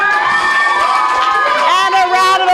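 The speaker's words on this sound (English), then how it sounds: "A round of applause for Desiree." Young audience members at a school anti-bullying drama performance cheer and shout loudly up close, a bright wash of excited voices that swells toward the end.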